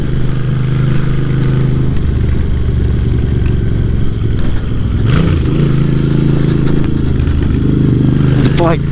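Moto Guzzi V7 motorcycle riding on the road, giving a loud, continuous engine rumble with wind noise throughout. Someone talks over it.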